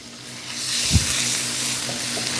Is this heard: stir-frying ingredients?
yes